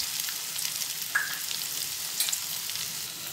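Mustard seeds, onion and green chilli sauté in hot oil with a bright, steady crackling hiss, close and continuous, with a couple of small pops and no talking.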